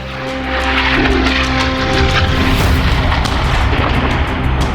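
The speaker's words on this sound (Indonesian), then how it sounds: "Rekaman di lapangan menunjukkan ledakan dahsyat yang disertai kepulan asap tebal" Heavy, rumbling booms of distant explosions rolling together with a continuous roar overhead, loud and sustained throughout.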